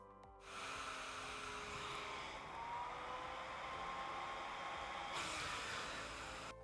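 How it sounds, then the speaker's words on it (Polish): Steady whooshing roar of a vacuum cleaner motor and fan running, loud and continuous, with a faint rising whine as the fan spins up faster partway through, and no talking. "Dlatego wentylator kręci się szybciej."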